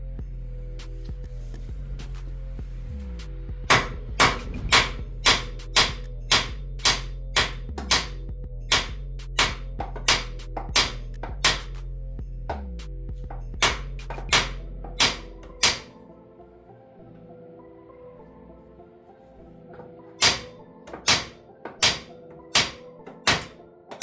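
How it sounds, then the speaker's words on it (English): Hammer blows knocking a leaking rack and pinion out of its mount on a car, a long run of sharp metallic strikes at a steady rhythm over a low hum, then a pause and another quicker burst of hits. "I gotta beat that thing till it pop out of that hole."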